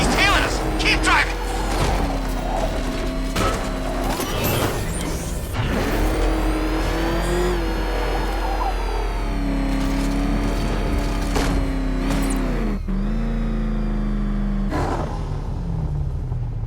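A car driving and accelerating in the game Batman: Arkham Knight, a steady engine rumble with rising revs and whooshing passes beneath frequent voices and tense music, with abrupt impacts punctuating the drive.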